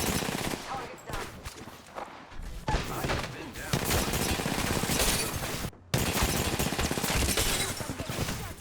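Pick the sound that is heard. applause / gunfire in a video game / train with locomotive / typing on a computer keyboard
gunfire in a video game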